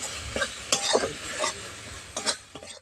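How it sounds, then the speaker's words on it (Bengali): A spatula stirs raw green peas with spices in a kadai for a jackfruit and prawn curry, giving scraping strokes and soft clinks of metal on the pan over a faint sizzle. "কড়াইশুঁটিটা দিয়ে এর সঙ্গে মশলার সঙ্গে কষিয়ে নেব"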